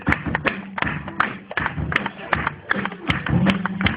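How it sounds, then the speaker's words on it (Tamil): Young people clap along to a lively Tamil worship song at a birthday gathering, with a leader singing and urging them on; steady rhythmic claps and thumps ride under the voice and music, close and fairly loud. "தட்டுங்க வாலிபர்கள்."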